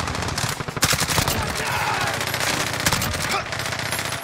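Fully automatic CR-56 AMAX rifle fire in a Modern Warfare multiplayer match, a continuous rattling stream of close, loud shots running throughout with brief gaps and a faint voice underneath.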